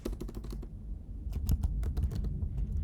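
Close clicking keystrokes on a computer keyboard in quick bursts, a brief pause midway, then another rapid flurry of taps.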